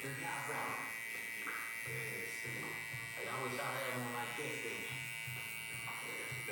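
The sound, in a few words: hair clipper cutting hair with lever halfway open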